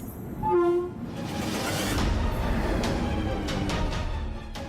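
A train passes Begunkodor railway station in Purulia, opening with a short loud horn blast followed by the sustained rumble and clatter of the passing cars, close and loud throughout.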